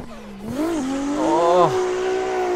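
A race car engine in Assetto Corsa on Evergreen Raceway PA, held near red line as a loud, steady, high harmonic drone with a few quick pitch dips and rises, plus brief tire scrub.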